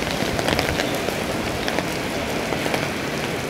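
Steady rain pattering on surfaces, a dense even hiss of drops close by with no voices.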